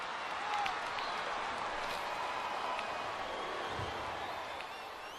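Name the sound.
crowd cheering in a WWE wrestling video game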